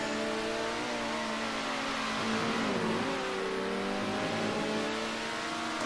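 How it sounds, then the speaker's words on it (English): A race car engine in the video game Circuit Superstars whines steadily at high revs during an endurance race, with pitch sweeping down and back up as the rear tires spin up through a corner. "You can hear the rears spinning up round there."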